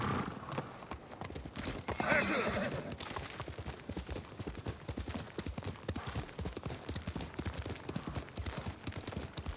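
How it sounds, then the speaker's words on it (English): Horse hooves clip-clop steadily in a video game, a continuous rhythmic trotting with an occasional neigh, loud and close throughout. "Oh, there's my horse. Come here."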